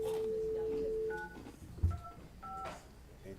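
Telephone keypad dialing tones, a short series of steady paired beeps from a phone placed over a landline at a city council meeting, heard close with faint room noise and a brief thump between them.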